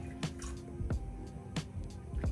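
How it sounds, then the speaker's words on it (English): Water or club soda splashed into a pan of cooking steak, potatoes and butter in a kitchen, heard as a few quick sizzling drips and spatters close by at an uneven rhythm. "I add my little water or club soda or something."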